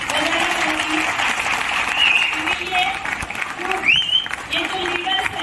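Applause from a seated audience at a Mi Lifestyle network-marketing event, a steady wash of clapping filling the room, with faint whistles and a voice talking over it.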